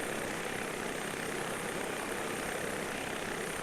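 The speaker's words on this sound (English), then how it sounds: "I'm going to actually land the helicopter really quickly here in one of these little openings" Simulated helicopter in a flight simulator game over mountainous Telluride scenery, a steady faint rotor and engine drone with an even hiss and no change in pitch.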